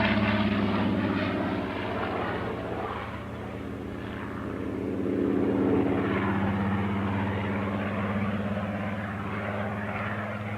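A vintage propeller aeroplane flies at the Cranfield air show, its piston engine droning steadily and swelling as it passes, loud and sustained across the whole stretch with no voices.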